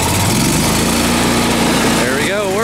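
An engine-driven welder on a farm fires up for the first time and runs at a loud, fast, buzzing idle. A brief rising whine is heard near the end.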